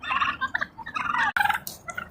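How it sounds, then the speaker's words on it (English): Wild turkeys gobble in repeated bursts outdoors at sunrise, a flock calling close and loud with overlapping rattling calls and a short break partway through. "I want this one to be all turkeys."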